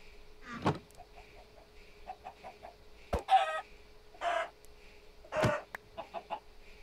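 Chickens in Minecraft cluck in short, separate bursts against quiet, interrupted by a few small clicking game sounds, with nobody talking.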